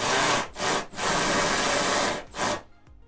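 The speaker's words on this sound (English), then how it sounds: "I'm just using an electric ratchet" An electric ratchet loosening the nuts on the factory spoiler of a 1993 Cobra Mustang, loud and close: a long whirring run, a short burst, another long run, then it stops abruptly.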